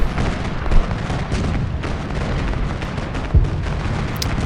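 Cannon fire in the Civil War strategy game Ultimate General: Gettysburg, with booming artillery shots over a dense, steady battle roar, sharper blasts near the start and around three and a half seconds.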